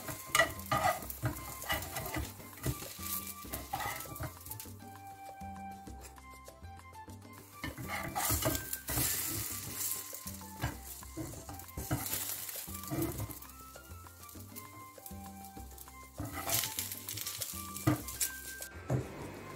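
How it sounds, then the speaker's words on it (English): Vegetable oil sizzles and spits in a frying pan as sausage cooks, with bursts of crackling and occasional clinks and scrapes of a utensil against the pan. "So I just added some vegetable oil to the frying pan, and I'll be placing the sausage."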